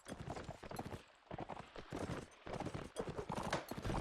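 Horses' hooves clip-clop in a video game, a busy overlapping stream of clattering hoofbeats that sounds like a group of horses on the move, with a faint voice now and then.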